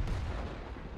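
A tank cannon booms in a tank video game, one heavy low blast at the start with a rumbling decay over about a second.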